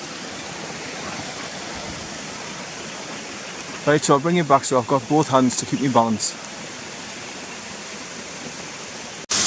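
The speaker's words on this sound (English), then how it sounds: "I'm just going to point the camera up the waterfalls as they're coming down." Waterfalls cascade down a rocky crag, a steady, broadband rushing roar that runs from start to finish; someone speaks briefly over it midway.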